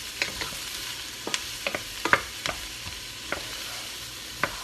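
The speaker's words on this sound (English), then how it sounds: "Give that a stir." Vegetables frying in oil for a vegan mushroom bolognese are stirred in the pan, with a steady sizzle broken by several sharp clicks and scrapes of the utensil, close by and with no talking.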